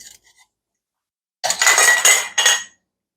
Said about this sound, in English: We're going to grab some new lids and some rings off of our caddy